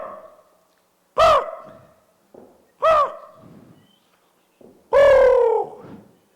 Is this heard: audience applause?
no